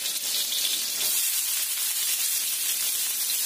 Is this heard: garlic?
yes